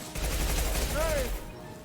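Impact shot gunfire from Mass Effect 2, a loud dense burst of game combat noise lasting about a second and a half, with a rising tonal whine riding over the blasts before they fade out.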